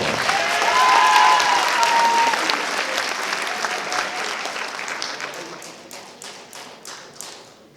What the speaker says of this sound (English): Let's give Mr. Hill another round of applause.